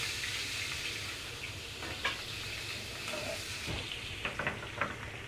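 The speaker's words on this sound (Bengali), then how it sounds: "এই যে মাছগুলো ভেজে দিয়ে দেওয়া হচ্ছে।" Katla fish frying in a pan, a steady sizzling hiss with crackles and spatters that grow busier toward the end, heard up close with no talking.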